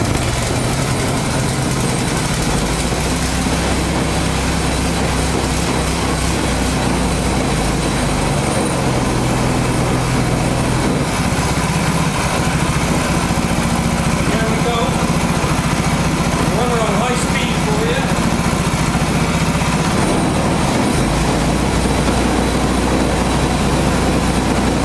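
A Lifan small engine that has never run before, in a repair shop, rumbles loudly and steadily throughout with a low running drone and some mechanical clatter, no clear pause between starting and running.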